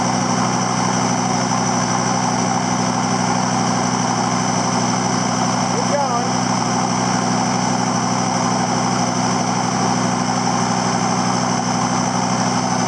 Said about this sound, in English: He's a bit more throaty now without a muffler.